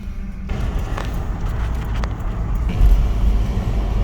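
A car driving on the road, heard from inside the cabin, gives a steady low rumble of engine and road noise with a few faint knocks and a brief swell near the end.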